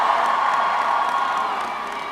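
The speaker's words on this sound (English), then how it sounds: "So please give another round of applause for these members" A large outdoor rally crowd of marchers applauds and cheers for lawmakers, a steady dense wash of clapping and whoops that holds loud and even from start to finish.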